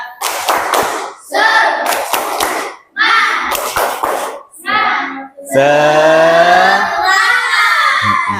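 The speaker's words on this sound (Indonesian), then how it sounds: "ayo kita tepuk semangat seperti biasanya, ya. Ayo, tepuk semangat." Schoolchildren in a classroom do the rhythmic 'tepuk semangat' clapping chant: loud bursts of group clapping alternate with shouted call-and-response lines, ending in a sustained, loud chorus of voices.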